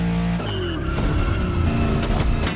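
A luxury hypercar with four-figure horsepower in The Crew Motorfest, its engine roaring loudly and shifting pitch as it drives and accelerates, close and continuous over a couple of seconds.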